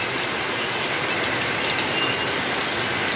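Heavy rain pours down suddenly as a dense, steady roar of broadband hiss with no break and no voices.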